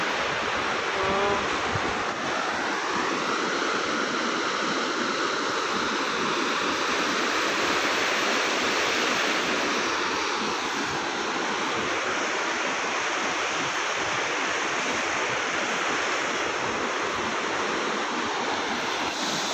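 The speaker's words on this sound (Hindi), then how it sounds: "काफ़ी ज़्यादा पानी ज़ोर से बह रहा है और उसकी काफ़ी ज़्यादा ज़ोर से आवाज़ भी आ रही है।" A fast, swollen river rushes loudly and steadily through a green forest, a dense unbroken roar of churning water filling the whole scene.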